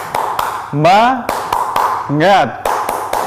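Elementary school children and teacher perform a rhythmic clapping chant, sharp claps in a set pattern alternating with sung chanted words.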